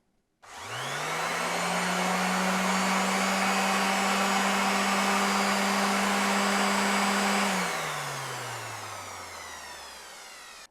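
A TOPSHAK TS-SD4 240W random orbital sander, heard from about 40 cm away, whirs up sharply into a loud, steady high whine, holds for several seconds, then switches off and winds down gradually to silence.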